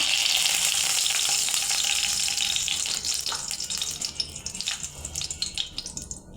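Whole spices and two bay leaves sizzle loudly in hot oil for a Bengali egg and potato dish, a bright crackling hiss that thins into sparser pops toward the end.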